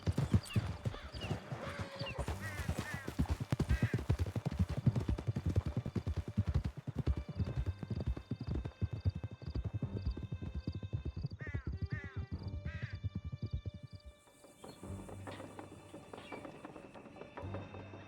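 Galloping horses in Red Dead Redemption 2 pound out rapid, steady hoofbeats for most of the stretch, with a neigh, rattling tack and mechanical clicks, then the hooves fade toward the end.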